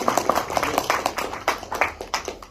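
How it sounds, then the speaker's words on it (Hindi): A short burst of audience clapping at a presentation, with fast, dense hand claps from a group of people, fairly close and steady for a couple of seconds. "तो आप लोग तालियां बजा सकते हैं।"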